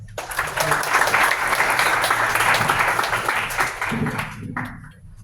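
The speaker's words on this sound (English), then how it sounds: "Let's give Heather a round of applause." An audience at a startup demo night breaks into loud, sustained applause, dense clapping lasting several seconds before tapering off at the end.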